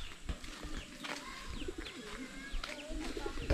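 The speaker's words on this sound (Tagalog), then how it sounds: "Ito naman pala yung ating mga alagang kalapate." Pet pigeons cooing softly and repeatedly in a quiet outdoor setting, with low throaty coos, a few faint chirps from other birds and light background rustling.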